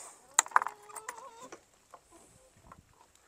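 A broody hen in a chicken coop clucks and squawks in a few sharp, close bursts over the first second and a half, followed by quieter scattered clucks and rustling.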